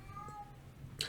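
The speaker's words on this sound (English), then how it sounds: "But now the cat's howling." A cat howls faintly in the background of a casual indoor conversation, a thin drawn-out meowing wail followed by a brief sharper sound at the end, under quiet room noise.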